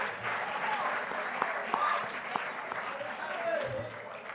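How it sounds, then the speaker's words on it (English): An audience at a high school winter sports varsity awards ceremony claps in a moderate, continuous round of applause, fairly distant and soft, with faint crowd murmur underneath. "Give yourselves a round of applause for a great year."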